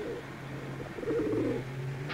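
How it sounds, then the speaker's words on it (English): Homing pigeons coo steadily in a low, murmuring rhythm, several birds overlapping close by, with the cooing swelling louder near the middle. "Detective Halloran, did you ever band a homing pigeon?"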